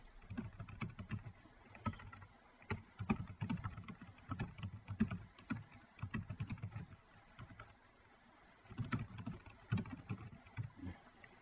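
Bursts of typing on a computer keyboard, with irregular clusters of key clicks separated by short pauses. Close and moderately loud, with no voices.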